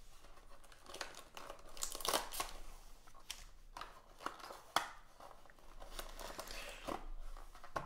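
Foil-wrapped 2020 Panini Impeccable football card packs are torn and crinkled open close by, a continuous crackling rustle with sharper rips, fairly quiet and with no talking.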